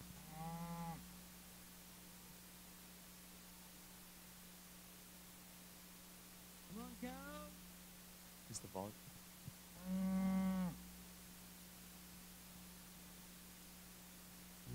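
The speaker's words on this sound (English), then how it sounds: "But here's a little video of Adam and moving cows." A Normandy milk cow lets out three long moos, spaced several seconds apart and fairly close, over a steady background hiss and low hum.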